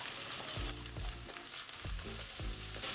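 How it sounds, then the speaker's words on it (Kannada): Mint, coriander and spice powder frying in oil over a low flame, giving a steady close sizzle with a few soft stirring knocks in a repeating rhythm, no voices. "ಎಣ್ಣೆಯಲ್ಲಿ ಚೆನ್ನಾಗಿ ಫ್ರೈ ಆಗಬೇಕು."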